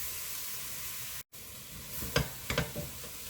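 Shredded beef and sliced radish stir-fried together in a pot for a beef soup give a steady soft sizzle, broken near the end by a few louder bursts of stirring and scraping. No one speaks.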